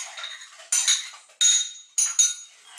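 Scraping and mixing blanquette de veau into its floury sauce in a pot, the metal utensil clinking and scraping against the sides in four or five sharp strokes, close up and with no voices.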